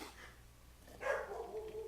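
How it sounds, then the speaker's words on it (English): A dog barks faintly in the background of a podcast recording, a short yelping bark with a lingering whine over room noise. "My dog's barking?"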